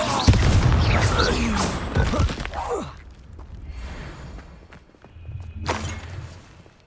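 A Confringo fire spell in Hogwarts Legacy bursts with a loud booming impact and crackling debris, followed by quieter rumbling and a second sharp blast near the end.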